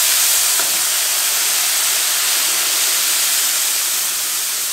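Tomato and onion paste hits hot oil in a pan while making Punjabi dhaba-style dum aloo, giving a steady, loud, close hiss of sizzling that carries on without a break.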